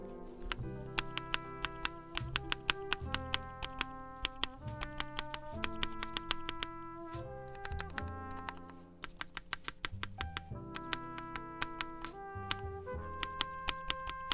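A mechanical keyboard with a GMK spacebar is tapped repeatedly, giving a quick run of sharp clacks in uneven bursts, close and clear with no talk.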